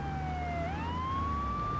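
Police car siren from the video game GTA 3, a steady wailing tone that dips and then sweeps back up, loud and continuous over a low engine rumble, with no talking.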